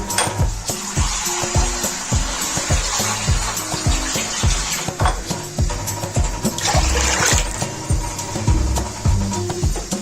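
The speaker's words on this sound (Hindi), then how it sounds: "दो से 3 बॉल भर के हम पानी डालेंगे।" Bowlfuls of water are poured into a kadai to cover cauliflower for boiling, a close, continuous splashing and sloshing with occasional metallic clinks, without any voices.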